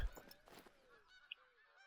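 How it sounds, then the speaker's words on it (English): Geese honking in the hunting game theHunter: Call of the Wild, a few faint calls against a quiet woodland backdrop, with one brief sharper honk late in the moment. "It's like I do hear the geese"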